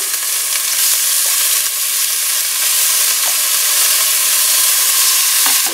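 Tomatoes sizzle as they go back into a hot pan for birria quesadillas, a loud, steady, close frying hiss that runs unbroken throughout, with a few faint knocks.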